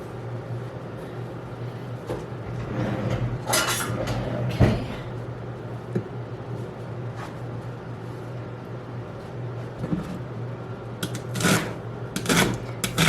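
Celery is sliced with a vegetable blade, giving sharp irregular cutting clicks and scrapes over a steady low hum, close and moderately loud, with no talk.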